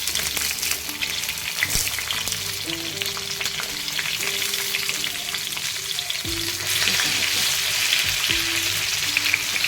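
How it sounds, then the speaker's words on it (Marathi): Stuffed green chillies sizzle steadily in a hot pan, with a few clinks and scrapes as they are flipped, the frying growing slightly louder toward the end. "आता आपल्याला मिरच्या याचा पलटी करायची"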